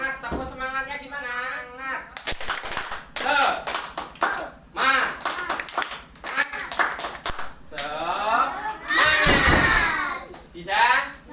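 Elementary schoolchildren in a classroom clap out the rhythmic 'tepuk semangat' chant, with bursts of sharp, patterned claps mixed with children's voices and a teacher speaking between rounds.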